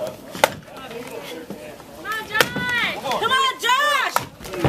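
Axe blows strike a block in an underhand chop competition, sharp woody thwacks sounding a few times while an announcer talks loudly over them and a crowd cheers.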